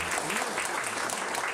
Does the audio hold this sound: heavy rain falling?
no